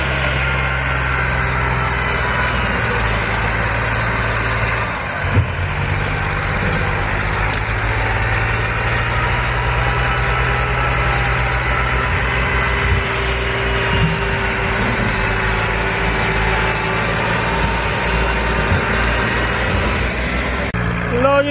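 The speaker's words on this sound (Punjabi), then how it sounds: "240 ਬਾਬੇ ਆਦਮ ਦੇ ਵੇਲੇ ਦਾ ਟਰੈਕਟਰ ਹੈ, ਵੇਖੋ ਕੀ ਕਰਦਾ ਹੈ" An old 240 tractor in Pakistan hauls a fully loaded trolley, its engine droning steadily and continuously for the whole stretch at close range, with faint voices now and then in the background.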